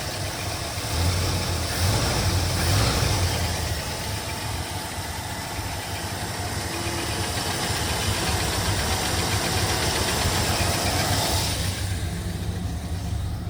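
A 1971 Ford F-100 truck engine idles steadily at low revs, a continuous rumbling drone with faint knocking, running alone without any voices for the whole stretch.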